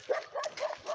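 Dogs bark outdoors at dawn, about four short yapping barks in quick succession, fairly faint and in the distance.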